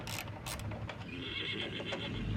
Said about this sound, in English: My horses are freaking out